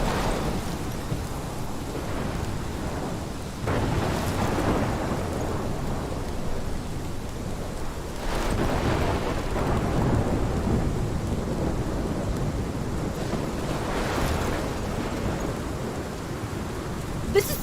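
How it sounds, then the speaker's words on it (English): A steady downpour of heavy rain fills the scene in Life Is Strange, with several deep rolls of thunder swelling and fading across the storm, no voices. "This is my storm."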